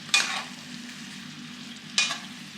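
Apple slices stir and soften in a hot pan, two brief scraping stirs over a low, steady sizzle, close and fairly quiet.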